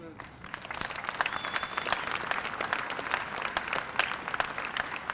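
Crowd at an Arkansas March for Life rally applauding steadily, with dense, sustained clapping and some mixed voices running throughout the whole stretch.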